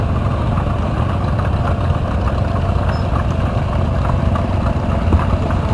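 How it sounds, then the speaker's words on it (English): A 1949 Oliver Cletrac crawler tractor engine idles loud and close at an outdoor hometown show, a steady low rumbling chug with even pulsing throughout and no talk over it. "Next, we have a 1949 Oliver Cleatrack, owned by Zach Fryman."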